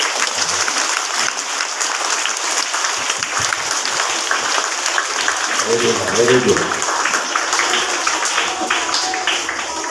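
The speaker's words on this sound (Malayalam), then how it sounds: "നിങ്ങൾക്ക് ഞാൻ നല്ലൊരു കയ്യടി നൽകുകയാണ്" Students at a school event applaud in a sustained, dense round of clapping from a large group, steady throughout, while a voice briefly speaks over it.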